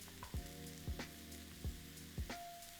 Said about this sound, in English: Stir it all together and fry for 5 to 6 minutes